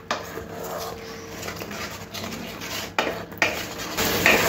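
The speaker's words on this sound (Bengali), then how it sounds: "এবার সব কিছু খুব ভালো করে কষে নিতে হবে।" Tomato masala for spicy chicken is stirred and fried in a pan, giving repeated scraping and clattering of a spoon against the metal. Sharper knocks come near the end, with a faint sizzle underneath.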